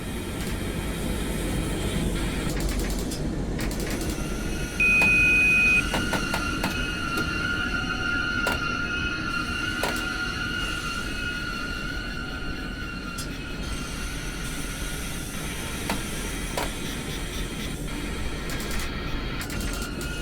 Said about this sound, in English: Begin applying a small amount of brake force using the driver's brake valve to bring the train to a gentle stop.